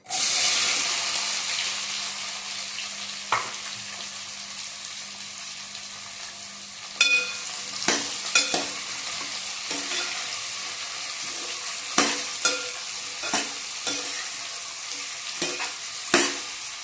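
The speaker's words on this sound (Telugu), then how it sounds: "కొద్దిసేపు వేగనిద్దాం ఫ్రెండ్స్. మధ్య మధ్యలో కలుపుకుందాం ఫ్రెండ్స్, మాడకుండా" Chopped onion, cumin and fenugreek leaves hit hot oil in a pan with a loud initial sizzle, then keep frying steadily while a spatula scrapes and stirs in intermittent close clacks.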